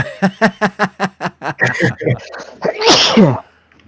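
A single loud, close sneeze bursts out near the end, after a quick run of short rhythmic voiced puffs that build up to it.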